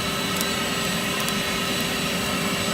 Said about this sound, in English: pull the loaf lighter away slightly and keeping hold of the button, and that will spread the heat around and get your coals lit